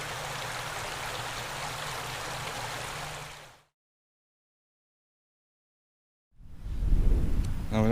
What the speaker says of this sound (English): I'm going to have to cross the stream somehow.